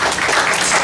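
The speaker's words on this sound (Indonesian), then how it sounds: "Mantap, tepuk tangan." Audience applause at a village gathering in Sidodadi, Wongsorejo, a dense, steady wash of clapping that fills the whole brief moment with no voices over it.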